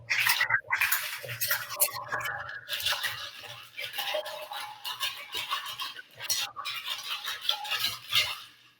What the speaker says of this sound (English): I have a shaker, but I'll stir it.